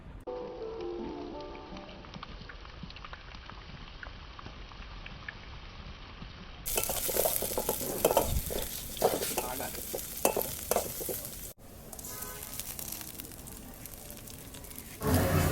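Oil sizzles in a pot on a clay stove on a rooftop while egg curry is being cooked, a close, continuous crackling fry that swells louder midway, with stirring scrapes.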